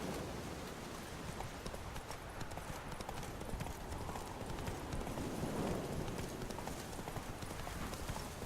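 Roach, the horse in Witcher 3, trots with a continuous, fairly quiet clip-clop of hooves over a soft ambient background.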